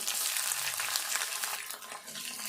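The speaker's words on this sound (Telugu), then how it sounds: "ఈ ఉల్లిగడ్డ కూడా మంచిగా వేగాలి." Sliced onions frying in a pan for a moong dal curry, a dense continuous sizzle with crackly bright texture, close and fairly loud, holding steady for the whole moment without talk.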